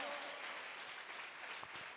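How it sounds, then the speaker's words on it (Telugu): A church congregation clapping during a Sunday sermon, a soft, diffuse patter of many hands heard at a distance, fairly faint and continuous over the two seconds. "యేసయ్యకు మహిమ కలుగునట్లు చప్పట్లు కొడుతూ దేవుని కనపరచు"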